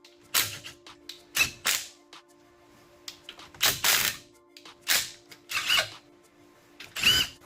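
Caliper bolts are removed from the brakes of a 2017 Ford Explorer during a wheel bearing job, heard as about six sharp, close bursts of a power tool separated by short pauses.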